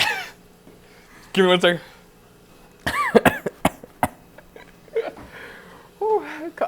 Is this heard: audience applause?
no